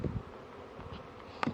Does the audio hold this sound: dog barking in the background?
no